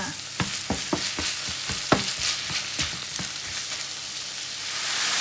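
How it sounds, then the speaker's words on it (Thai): Ingredients stir-fried in a pan over a constant bright sizzle, with quick, rhythmic spatula scrapes and taps clustered early that thin out as the hiss keeps going. "ผัดให้เข้ากันนะคะ นี่นะคะ ผัดให้เข้ากันค่ะ"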